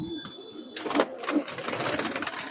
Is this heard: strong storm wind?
no